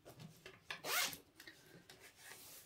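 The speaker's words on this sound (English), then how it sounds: "turn the zip around" A zip on a fabric bag being handled and turned, with soft rubbing and rustling and one louder zipping scrape near the middle, close and quiet.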